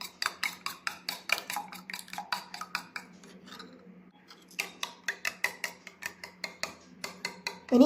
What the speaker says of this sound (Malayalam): ഇനി ഇതിലേക്ക് ആവശ്യമുള്ള ഉപ്പ് ചേർത്തിട്ട് നന്നായിട്ടൊന്ന് മിക്സ് ചെയ്തിട്ട്